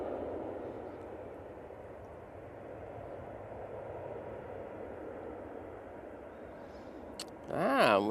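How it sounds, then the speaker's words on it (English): Boeing 777 landing with thrust reversers engaged: a steady, moderately loud broadband jet roar holds throughout, then a brief louder surge with rising whine near the end. "It's that nose down so they can apply the reversers on that 777."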